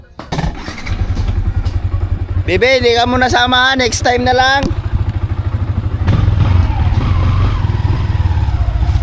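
A motorcycle engine idles with a low, steady drone close by and swells as it pulls away, under continuous talk and a burst of higher-pitched voices partway through.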